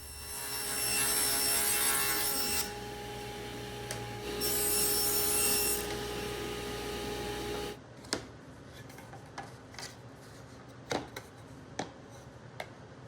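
Power saw cutting 1/4-inch plywood panels for a small toolbox, two loud whining passes through the sheet, then quieter scattered knocks and handling of the cut pieces, with no talk.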